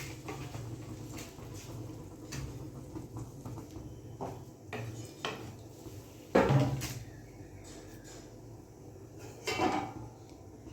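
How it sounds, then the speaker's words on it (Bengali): A lid set onto a pot of dal on the stove gives a few scattered clinks and knocks, with one sharper metallic clack midway and another near the end over a low kitchen background. "এটাকে এবারে আমি চাপা দিয়ে দিলাম"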